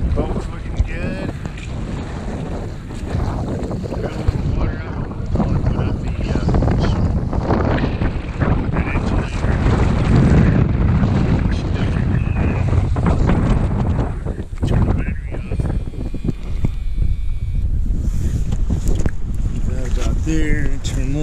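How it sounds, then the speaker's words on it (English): Strong wind roars across a microphone at a beach campsite during a storm, with water and surf mixed in, buffeting loudly and continuously throughout. "The wind is blowing again"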